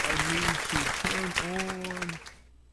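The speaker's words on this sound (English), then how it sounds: "You get another round of applause just for that." A round of applause in a room with the door closed, mixed with voices and tonal sounds laid over it, fading out near the end.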